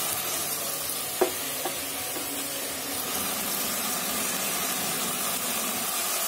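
Ginger frying in a pan for a pork dish with fermented soybean, giving a steady, fairly faint sizzling hiss throughout, with two brief sharper crackles near the start.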